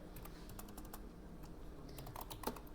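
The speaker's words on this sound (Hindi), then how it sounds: "कीबोर्ड से F2 कर दिए" Computer keyboard keys tapped in a quick irregular run, crisp close clicks with brief pauses, over a low steady room hum, with no voices.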